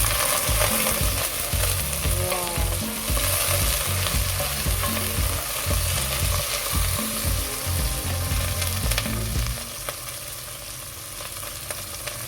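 Chicken and onions sizzle and fry in a pot for a Filipino chicken tinola, with spoon stirring and scraping clearly audible over a steady loud crackle that quiets slightly near the end.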